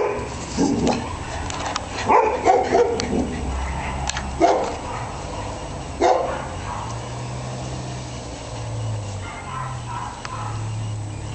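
Dogs, a Dalmatian and a West Highland White Terrier, bark in several sharp bursts early on, with whimpers and yips around them, at moderate loudness close to the listener before things quiet to a low hum.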